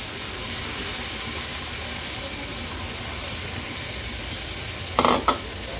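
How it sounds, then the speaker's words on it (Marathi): Rajma, beans, potato and large tomato chunks cooking in masala and oil, giving a steady close sizzle and hiss throughout, with a couple of quick stirring knocks near the end. "आता आपण हा स्वच्छ धुतलेला राजमा वगैरे आहे तो ऍड करूया"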